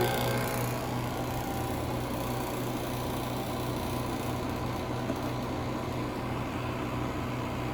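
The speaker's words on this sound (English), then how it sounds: "Vacuum pump kicking on." A vacuum pump kicks on and settles into a steady, droning motor hum with a faint hiss, continuous and fairly quiet throughout with no talking.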